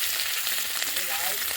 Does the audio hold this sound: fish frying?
yes